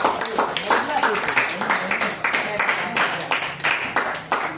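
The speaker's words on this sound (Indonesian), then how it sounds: "beri tepuk tangan untuk kelompok 2" Students in a classroom clap for a group, a loud, rhythmic run of claps in quick bursts that keeps a steady beat, with voices mixed in.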